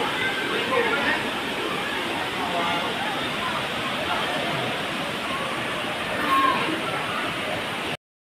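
Tinaga waterfall on Biliran Island roars as a steady, even wash of falling water that fills the whole stretch, with faint voices of visitors mixed in.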